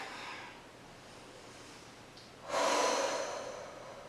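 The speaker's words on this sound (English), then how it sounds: "Breathing deeply into your lower back." Deep breathing during a Pilates child's pose stretch, a soft exhale followed by a louder, longer breathy rush of air, close and unaccompanied by speech.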